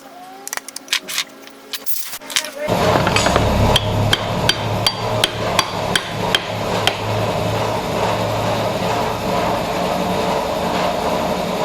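A hammer strikes a chisel cutting a square hole in wood, a steady series of sharp knocks, about a dozen blows at an even pace, close by over a low background hum.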